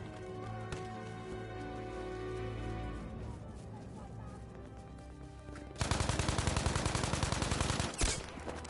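Rapid bursts of gunfire crackle through a video game firefight, dense and sustained for a couple of seconds near the end after quieter ambient game sound, with a sharp shot standing out just after.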